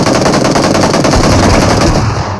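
Rapid automatic gunfire in a battle royale video game, fired from horseback: a loud, dense burst of close shots, almost without pause, lasting about two seconds.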